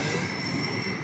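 A small provincial LRT train rolls past with a loud, sustained metallic wheel squeal over dense rumbling rail noise, steady and close for the whole moment.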